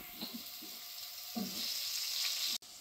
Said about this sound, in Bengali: কেটে রাখা আলুগুলো এবার দিয়ে দেবো। ভালো করে আমি এগুলো ভেজে নেব।